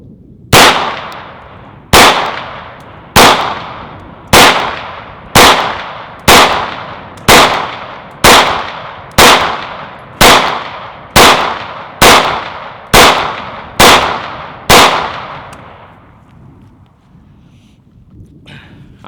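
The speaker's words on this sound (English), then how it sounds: "there's 15 shots with the 229" Fifteen pistol shots from a Sig P229 ring out loud and close in a steady, evenly spaced string, each sharp crack trailing off before the next, ending in quiet.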